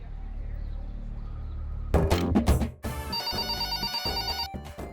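A landline telephone rings in a home during a Kannada TV serial, a pulsing electronic ring in repeated bursts after a brief clatter, close and clear over faint room noise.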